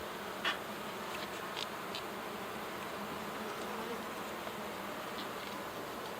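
Honey bees at a horizontal hive give off a steady, dense buzzing hum, close and continuous, with a few individual bees droning past. No one speaks.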